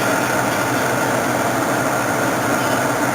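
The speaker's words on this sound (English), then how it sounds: "Nice to see an old train." An old train passing nearby, a steady broadband rumble and rail roar that holds at an even loudness for the whole stretch with no talk over it.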